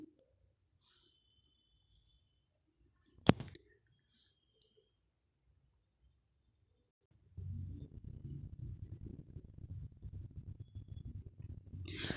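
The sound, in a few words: mouse clicking on a spreadsheet cell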